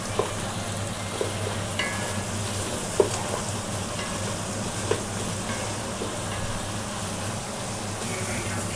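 Ginger garlic paste fries in a pan after tomatoes, with a steady close sizzle and occasional light stirring clicks.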